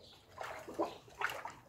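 A dog blowing bubbles in bath water, with a couple of short bubbling splashes and sloshes, close by and fairly quiet.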